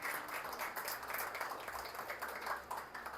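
A church congregation claps together at a service, a soft, distant, steady patter of applause lasting a few seconds with no voices over it.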